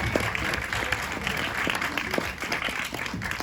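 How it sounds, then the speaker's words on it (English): Audience applause fills a room at a film director Q&A, steady dense clapping from a crowd throughout, fairly loud and continuous. "one more round of applause for Nick and Troy."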